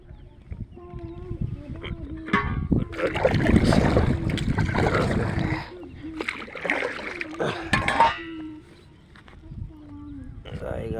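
A fishing boat moves across the water of Belai beel, with splashing and wind noise rising and falling while someone talks over it throughout.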